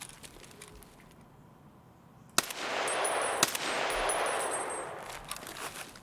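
Hip-fired automatic gunfire in a first-person shooter, a sudden loud burst after quiet ambience, sustained rattling shots with sharp metallic pings and clangs trailing off over a few seconds, no talking.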